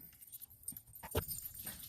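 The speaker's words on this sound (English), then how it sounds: "the Yorkies are already trying to bark and make all kinds of noise" Small Yorkshire terriers yapping and fussing indoors, with a short sharp bark burst near the middle among scattered faint whines and rustling, fairly quiet overall.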